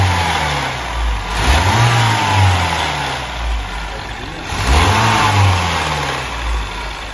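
BMW 116i engine running rough and shaking on three cylinders, a loud close uneven drone with two rising revs, no talk.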